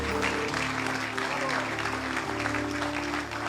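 A church congregation claps steadily through a prophetic service, with dense continuous applause filling the room and a voice speaking over it.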